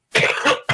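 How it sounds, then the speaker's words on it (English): A person coughs in two harsh, close bursts, a long rough hack followed after a short pause by a second cough, loud and alone without talk. "while you coughing and dying"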